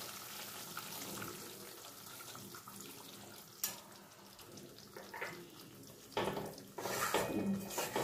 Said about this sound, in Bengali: এবার এর মধ্যে আমি উষ্ণ গরম জল অ্যাড করে দেব